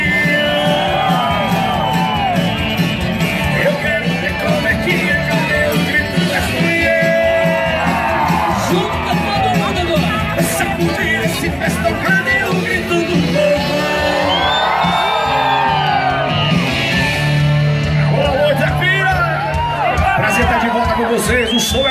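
Large concert crowd at a country music rodeo show in Itapira, Brazil, shouting, whooping and cheering loudly and continuously for about twenty seconds, with a performer's voice booming over the noise at times.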